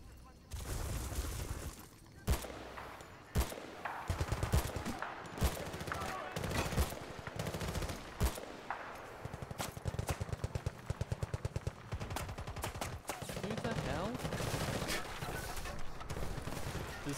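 Battlefield Bad Company 2 firefight with dense, rapid bursts of automatic gunfire and scattered single shots and impacts, sounding near and loud throughout, mixed with occasional talking.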